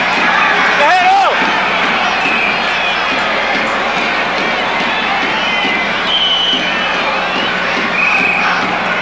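A stadium crowd of about 25,000 at the 1993 Copa América final between Argentina and Mexico in Ecuador keeps up a steady roar, with scattered whistles and a commentator talking over it.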